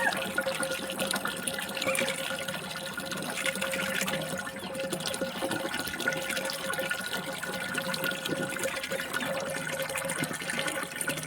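Water running steadily while bamboo shoots are washed in the kitchen: a continuous, even splashing stream, moderately loud and unbroken for about eleven seconds, with no voices.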